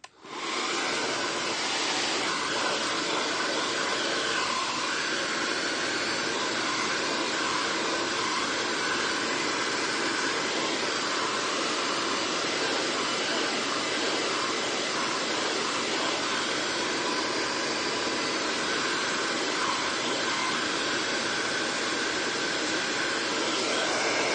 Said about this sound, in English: I'm just going to blow dry this